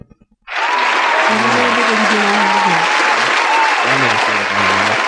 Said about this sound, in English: We gonna clap it up in real life